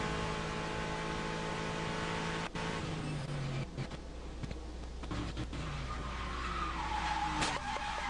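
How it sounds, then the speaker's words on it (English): A race car locks its brakes, tires screeching in a long skid over a loud, droning engine, with the engine note shifting as the car slides. "It looked like he locked it up under braking there."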